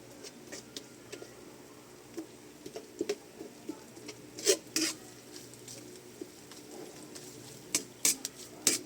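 Ingredients stirred in a cooking pan, with soft scraping and light clinks of a utensil against the pan that come and go at a moderate, uneven pace; a faint background hum sits underneath.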